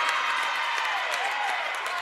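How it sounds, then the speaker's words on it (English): A high school basketball crowd at Emmetsburg roars and claps after a three-pointer, a dense, loud, sustained wash of cheering filling the gym. "That gets the crowd going."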